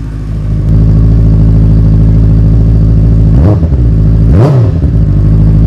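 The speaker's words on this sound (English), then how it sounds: "I'm going to remove my headset and leave it to the bike so you can hear the nice sound." A motorcycle engine drones loudly and steadily while riding, with two quick rev swells where the pitch dips and climbs again before returning to a constant hum.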